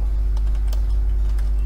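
Keys on a computer keyboard tap out a terminal command in a short, light run of scattered clicks, quiet over a steady low hum.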